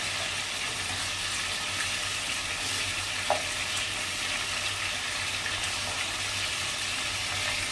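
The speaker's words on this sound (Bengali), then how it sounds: "লাল করে ভাজলে ভালো লাগে।" Chicken pieces frying until browned, a continuous gentle sizzle heard up close with one brief faint tap partway through and no talking.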